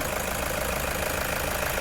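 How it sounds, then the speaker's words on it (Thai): A Toyota 3.0-litre diesel engine in a grey 2016 vehicle idles with a steady, even, broadband rumble, heard from fairly close and without speech over it. "ตอนนี้เราสตาร์ทเครื่องยนต์อยู่นะคะ"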